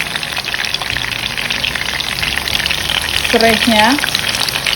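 Sambal chili sauce poured into a hot pan and stirred, a steady crackling sizzle close by, with a short burst of speech near the end.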